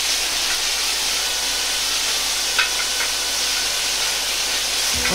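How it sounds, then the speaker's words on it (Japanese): A steady broad hiss of beef searing in a hot dry pan without oil, continuous and fairly loud, with a faint tap of chopsticks near the middle. "鍋に油を入れずに、 そのまま牛肉を炒めていきます。"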